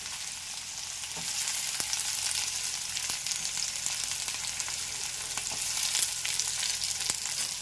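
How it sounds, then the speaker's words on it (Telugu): Chopped onions fry in hot oil in a pan for a cucumber and drumstick curry, a steady close sizzle with faint crackles and occasional stirring clicks, no voices. "ఉల్లిపాయ ముక్కలు వేస్తామండి."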